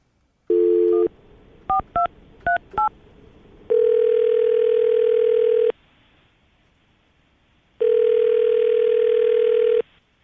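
A phone line gives a short dial-tone hum, then a quick run of touch-tone dialing beeps, followed by two long, loud ringback tones separated by silence while a call is placed to a radio show guest.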